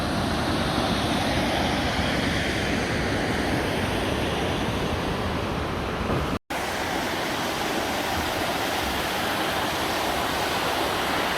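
Constant roaring rush of a waterfall on the Trail of Ten Falls in Silver Falls State Park, Oregon, loud and steady throughout, with a brief cut to silence midway before the roar resumes.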